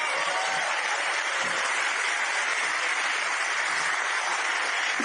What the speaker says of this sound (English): please applaud that